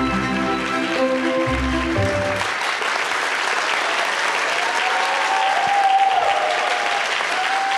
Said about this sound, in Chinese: 掌声归给我们的天父